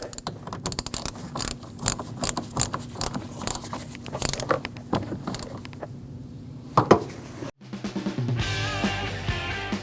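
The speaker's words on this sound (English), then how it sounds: "Install it back on, and tighten that 10mm bolt." A 10mm bolt on the accessory drive belt tensioner of a 2014–2023 Jeep Cherokee 2.4L four-cylinder being tightened, with a rapid stream of close ratchet clicks and mechanical ticking, then a brief cut to a different, smoother sound near the end.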